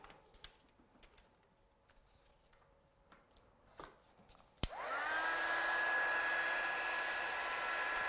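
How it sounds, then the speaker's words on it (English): A heat tool clicks on after several seconds of near silence and then blows a loud, steady whirring hiss while setting clear embossing powder on a handmade card. "So let's heat set this one."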